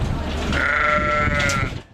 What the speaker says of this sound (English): so the Dutch spotted are nice tight skinned sheep anyway